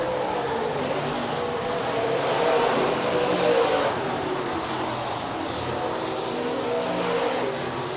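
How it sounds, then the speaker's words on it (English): Stock cars roaring around a speedway oval during a heat race, a steady dense engine drone that swells slightly as the pack passes, with no voices over it. "one more time around here for Colton Ahrens in heat race number 2 of your Precision Auto Body stock cars."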